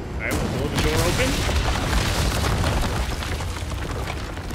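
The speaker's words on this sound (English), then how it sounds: "we'll blow the door open" In Resident Evil 4 Remake, a cannon fires to blow a door open, a heavy booming blast followed by a dense, rumbling wash of debris and noise that stays loud, with a voice talking over it.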